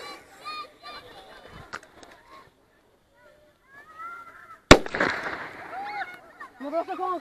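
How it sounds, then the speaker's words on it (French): A handful of firecrackers go off outdoors, with one loud sharp bang standing out among lively voices and chatter that continue before and after the blast. "c'est des pétards que j'ai achetés"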